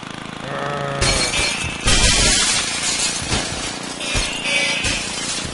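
Glass breaking in the video game Happy Wheels, a couple of loud shattering crashes amid busy game noise and tonal effects, with smaller clinking hits following.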